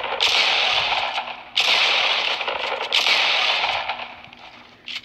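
Pump shotgun fired in quick double-pump succession in a video game, three loud sharp blasts each trailing into a long ringing decay, evenly spaced about a second and a half apart, with no talk over them.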